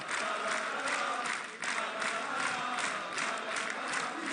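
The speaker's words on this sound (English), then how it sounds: "See this great crowd on hand here in France. Jam-packed this evening." A packed wrestling crowd in France roars with cheers and applause, a dense continuous wash of noise with a brief dip midway.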